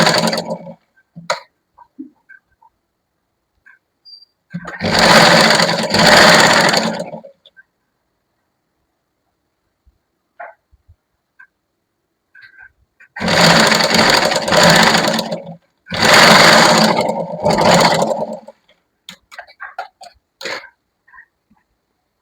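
A sewing machine stitches a lined kurti in loud, close bursts of two to three seconds, with long silent gaps and scattered small clicks in between.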